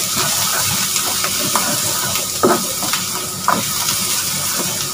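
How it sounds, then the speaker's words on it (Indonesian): A steady, close oil sizzle from stir-frying in a lightly oiled wok for a Chinese tomato and egg dish, with soft scrapes and taps from stirring over the constant frying hiss. "Ini harus ditumis sampai wangi, sampai kuning."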